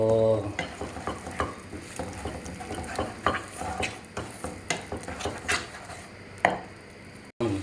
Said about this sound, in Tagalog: Halo-haloin lang natin mga boss chip. Halo lang ng halo.